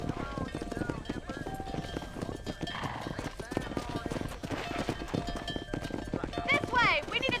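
Horse hooves galloping in the video game Red Dead Redemption while herding on a road in New Austin, a rapid clip-clop under steady game noise, with shouting voices and a horse whinny near the end.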